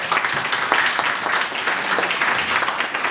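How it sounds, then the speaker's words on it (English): A crowd claps warmly in welcome of the chief guest at a Swami Vivekananda Jayanti 2023 school function, a dense, steady wash of applause sustained throughout with no voices over it. "Please welcome Mrs. Anita Dalal ma'am with a huge round of applause"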